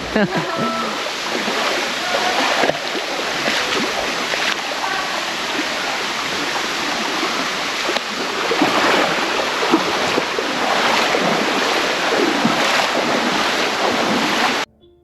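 Tukad waterfall in Ubud, Bali roars as a constant, loud rush of falling water close by, while people talk over it for most of the stretch.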